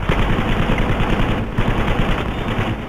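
Dense automatic gunfire from the World War II shooter game Battlefield V, with rapid machine-gun bursts rattling continuously and loudly for the whole stretch, no speech on top.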